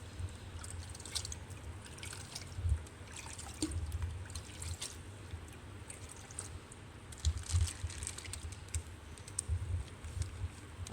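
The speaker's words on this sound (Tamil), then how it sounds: "கொஞ்சம் தண்ணி எடுத்து உள்ளே ஊற்றிப்போம்." Water poured into a home fish tank, a soft steady trickle and splash with intermittent clicking and handling knocks, close by, with no one speaking.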